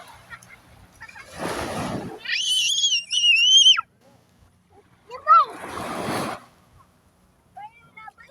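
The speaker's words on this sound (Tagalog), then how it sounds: "Ang lakas na ng alon" Loud bursts of splashing water crash twice, with shrill, excited voices rising between them.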